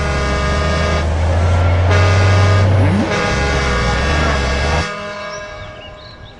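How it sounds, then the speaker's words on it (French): Buses pulling up in an animated football series, a loud steady engine drone with a sustained horn blast running through the middle, fading away toward the end. "voilà des bus."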